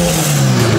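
A car fitted with a cam and a full exhaust revs at a car cruise, a loud, close, sustained engine roar with a steady low tone that holds briefly.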